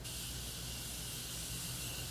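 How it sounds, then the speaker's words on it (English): Morphe makeup setting spray misted in one steady, continuous hiss lasting about two seconds, close and fairly loud, with no talking over it. "this setting spray from Morphe is so fire"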